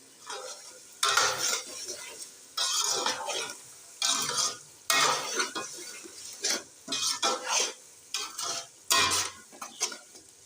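Potatoes and peas with salt and Ajinomoto are stirred in a pan, with repeated bursts of scraping and clinking of a spoon against metal and a soft sizzle in between, close and alone.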